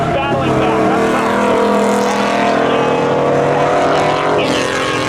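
A 1992 Chevy Camaro drag races a Subaru WRX at Seekonk Speedway, engines roaring loud and continuous at close range with shifting pitch throughout, a steady high-revving drone that briefly eases near the end.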